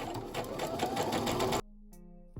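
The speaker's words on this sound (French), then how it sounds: "Je redescends et je continue à coudre ma tirette." Sewing machine stitching a zipper into a wax-print fabric cushion cover, running steadily and loudly for about a second and a half before stopping abruptly, leaving a quiet hum and a small click.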